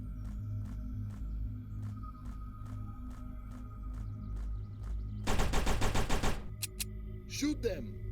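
Gunfire from the twin-stick shooter video game Last Hope Bunker: a loud burst of rapid automatic shots lasting about a second, followed by a few isolated shots over a droning game background.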